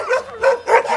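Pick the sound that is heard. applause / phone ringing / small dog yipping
small dog yipping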